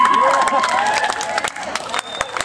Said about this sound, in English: I just want more people to clap now.